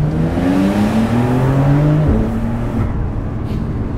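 A 2020 Porsche 911 Carrera S Cabriolet (992) boxer six revs loudly and close up, its pitch climbing in steady sweeps before it dips and holds a strong, continuous drone, with no talking over it.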